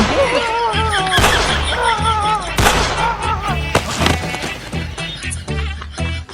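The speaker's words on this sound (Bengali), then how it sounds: "আবার গুলি করতে হইব।" Two sharp gunshot cracks ring out in a comic Bengali skit, about a second apart, loud and close, over continuous shouting, wailing voices and background music.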